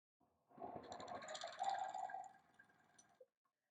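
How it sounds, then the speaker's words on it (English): A sewing machine runs one continuous seam on a quilt block, about two and a half seconds of steady mid-volume whirring with a slight rise in the middle, then it stops with a short click. "you're going to sew a 1/4 inch away from that diagonal line you drew"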